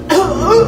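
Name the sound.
coughing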